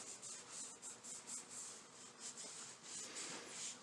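A rag rubs steadily over a part from a 1929 Briggs & Stratton Model PB engine, wiping off grease and oil in a continuous, soft scrubbing swish with a faint rhythmic pulse. It stays fairly quiet and close, with no voices.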